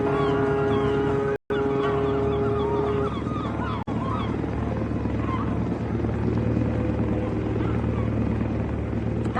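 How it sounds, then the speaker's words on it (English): Helicopter hovering steadily close by, a loud continuous rotor drone with engine whine, briefly cut by short dropouts, set as a radio drama sound effect. "That chopper's still there."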